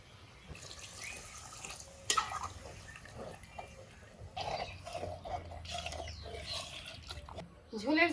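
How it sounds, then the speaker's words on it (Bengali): Water is poured into a pot of mutton curry simmering in a handi, giving an uneven splashing and trickling over several seconds, with a brief clatter of cookware early on and a faint background hum. "এখন ঝোলের জল দিব"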